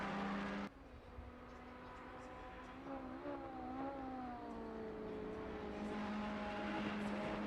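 A Ferrari race car in Assetto Corsa Competizione spins its wheels on AstroTurf, its engine holding a steady droning note that rises and wavers in pitch midway, loud and continuous with no talk.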